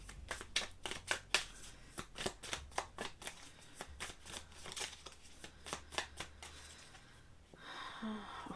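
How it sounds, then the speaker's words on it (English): Tarot cards shuffled in quick riffling bursts, a rapid series of crisp slaps and flutters close by, settling into a softer rustle at the end. "Okay, I will shuffle."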